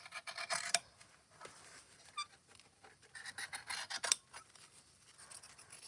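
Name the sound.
scissors trimming excess fabric at a bag corner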